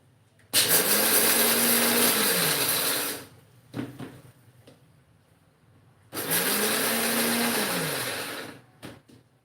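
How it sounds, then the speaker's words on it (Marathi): A mixer grinder grinding red chillies runs in two loud bursts of whirring, separated by a pause with a few clunks, the motor pitch rising and falling within each run. "आता हे आपण मिक्सरला छान फिरवून घेऊया"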